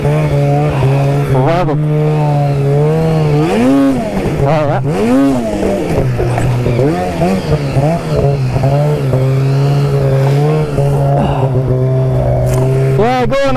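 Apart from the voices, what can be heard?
vehicle engine and tires spinning on rocky trail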